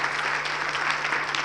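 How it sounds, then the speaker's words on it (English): Steady applause from an audience at a senior leadership conversation event, a continuous even patter of many hands clapping at moderate level for the whole moment, with a faint constant hum beneath. "let's give him a round of applause"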